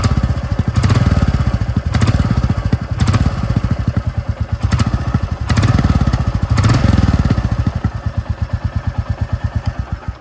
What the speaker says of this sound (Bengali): এবার রেভ করলে এরকম আওয়াজটা হয়।